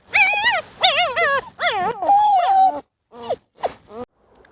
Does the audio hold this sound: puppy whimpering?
yes